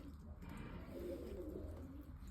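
Pigeons coo inside a pigeon coop, a low, steady murmur of soft calls that runs throughout at moderate volume, with faint rustling but no clear talk.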